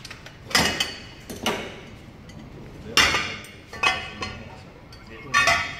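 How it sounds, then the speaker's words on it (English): Heavy metal clamp on a Tetra Pak actuator valve being undone during a maintenance training session, giving several sharp metallic clanks and knocks spaced irregularly, fairly close, amid room noise. "And then I can undo this clamp."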